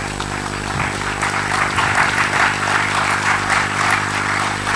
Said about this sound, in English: give a warm round of applause as the authors come up to the stage